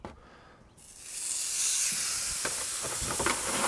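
Prime ribeye steaks hit a hot plancha on an SNS kettle grill and set off a sudden hiss of sizzling that holds steady at a moderate level after a quiet start.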